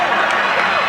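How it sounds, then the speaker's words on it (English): Arena crowd at a 1999 Detroit Pistons versus Washington Wizards basketball game, a loud sustained roar of cheering filling the brief moment, with a commentator talking over it. "Crowd into it big time."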